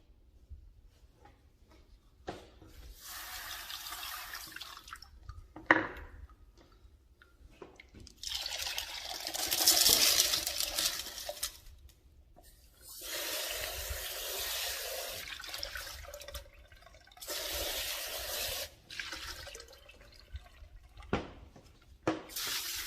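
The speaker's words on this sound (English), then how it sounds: "Ready to rinse them off and see how they're looking." Tumbled desert jasper stones are rinsed under running water, with gushing bursts of flow broken by quieter pauses and drips, close and moderately loud.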